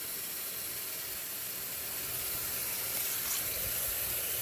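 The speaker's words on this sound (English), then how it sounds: "Now, I'm going to put hot water on this, and the water can just be faucet hot." Hot water runs steadily from a kitchen faucet, a continuous close hiss and splash that swells slightly louder toward the end.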